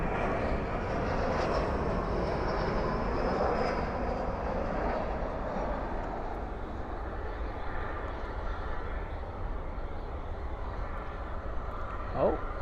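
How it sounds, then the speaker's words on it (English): An Airbus A321 rolls out after landing at night at Dallas Fort Worth airport with spoilers up and thrust reversers deployed, a distant, sustained roaring rumble that gradually eases, with voices talking over it. "Spoilers up, reversers out on this A321."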